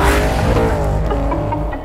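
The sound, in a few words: Ford Mustang Shelby car revving, tire squeal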